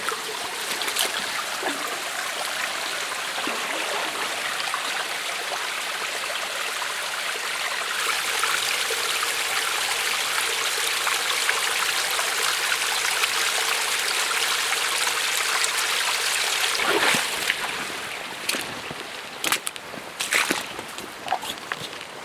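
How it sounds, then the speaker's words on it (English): A small stream near the Nehalem Divide tunnel in Oregon flows with a steady, close, full rushing babble that continues throughout, joined near the end by a few crunching footsteps. "Check out this little stream."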